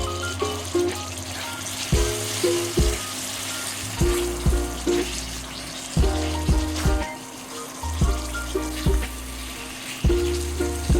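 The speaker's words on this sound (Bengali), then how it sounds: "আলুটাকে আমরা মশলার সাথে বেশ কিছুক্ষণ কষিয়ে নিয়েছি" Boiled potatoes sautéing with spices in a pan, a continuous sizzle with regular spoon scrapes and clinks recurring every couple of seconds, all set under a repeating low background loop.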